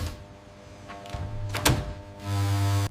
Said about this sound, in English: The doors are installed and close gently